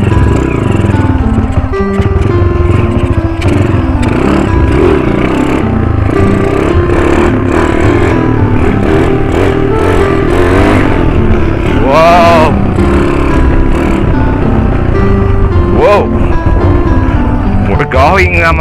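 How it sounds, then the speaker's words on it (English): A motorcycle engine revs and surges loudly up close during a wheelie on a mountain chill ride, with clattering and people talking over the running engine. "Let's do some wheelie again."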